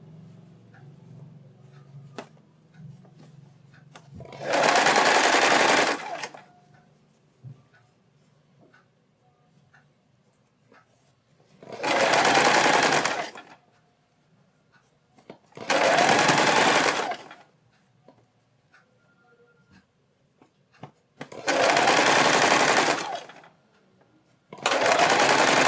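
A sewing machine stitches net panels for a party-wear gown in five loud, steady bursts, each a few seconds long, separated by near-silent pauses.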